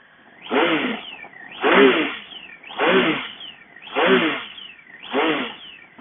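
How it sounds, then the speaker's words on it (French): A Triumph Speed Triple 1050 R 2016 motorcycle engine revs in five rising, swelling pulses, loud and close, each throaty surge fading before the next. "Et écoutez-moi le ronronnement de la 1050."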